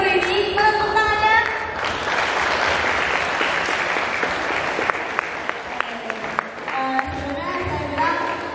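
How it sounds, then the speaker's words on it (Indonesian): Teachers Day school celebration where an assembly of students and staff claps loudly and steadily, with children's voices and shouts rising over the applause at the start and end. "Jadi di Hari Guru ini, tepuk tangannya."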